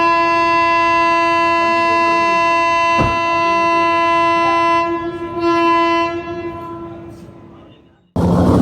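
A long express train horn blares loudly and steadily at Veraval junction station, with a sharp knock partway through, then fades as rail noise rumbles beneath before cutting off.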